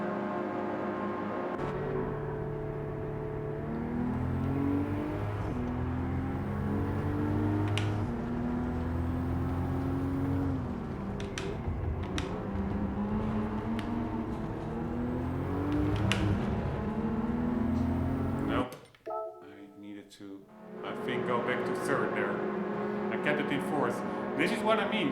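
A McLaren GT3 race car in Gran Turismo 7, its engine droning and climbing through gear changes for a long stretch, then dropping off briefly before revving back up near the end.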